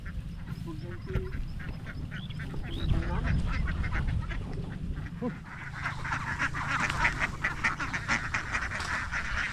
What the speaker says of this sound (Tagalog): Ito na po yung ating mga lagang itik.